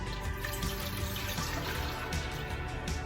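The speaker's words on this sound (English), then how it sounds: "Right now I have 3 cups of water going into my pot." Three cups of water pour into a cooking pot for hummingbird nectar, a steady splashing flow that stays close and moderately loud with no talking.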